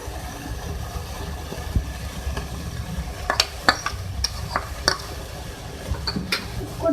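Chicken pieces with onions and ginger-garlic paste fry in a pan, a low steady sizzle broken by several sharp clinks and scrapes of a spoon stirring, close and moderately loud with no talking.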